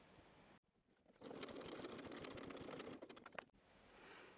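Sewing machine running a topstitch close to the edge of a fabric coin purse, a steady rapid needle chatter for a couple of seconds between quiet pauses, faint and close.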